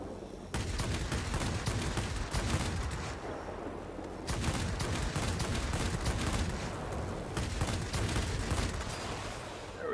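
Aircraft machine guns in World of Warplanes, fired from a Tier VIII Japanese Tachikawa Ki-94-II, rattle in three long, loud, rapid bursts separated by brief pauses over a constant engine roar.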